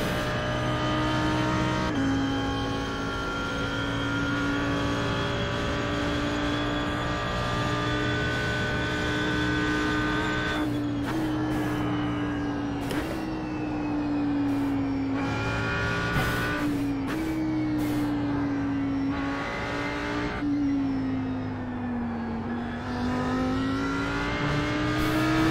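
Audi R8 GT3 race car lapping Mosport in the iRacing sim, its engine droning steadily with pitch rising and falling through gear changes and corners, occasional brief tire scrubs, loud and continuous with no talk.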